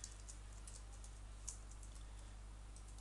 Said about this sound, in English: now let's type in the title here